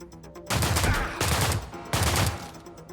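Enemy gunfire in the video game System Shock remake: three loud, sustained bursts of rapid automatic fire, each about half a second long, separated by short pauses over a low ambient hum.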